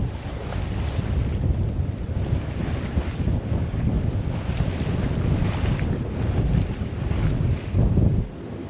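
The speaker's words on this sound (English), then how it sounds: "every once in a while we get a big splash" Ocean waves slosh and splash against a sailboat at sea on a passage from Tahiti to Hawaii, a loud continuous churn blended with heavy wind buffeting the microphone and a stronger surge near the end.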